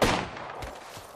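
A quick burst of gunfire from the Apex Legends battle royale game, a loud sharp shot followed by a couple of fainter echoing cracks within about a second.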